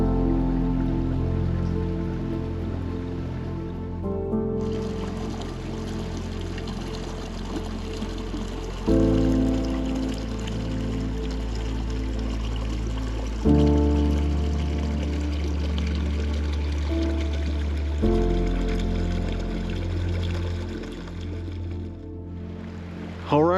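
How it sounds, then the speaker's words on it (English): Water sounds beside Sprague Lake in Rocky Mountain National Park: a continuous close rushing, pouring flow, loud and steady, shifting its tone in a few abrupt steps along the way. "just enjoying the sounds of the water"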